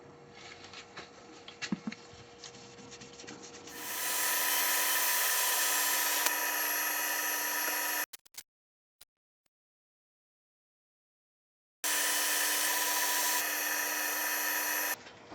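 A wood lathe spins up and runs steadily while a stained ripple maple platter is sanded, a loud continuous whine lasting several seconds before cutting out, then a short silence and the motor starting again.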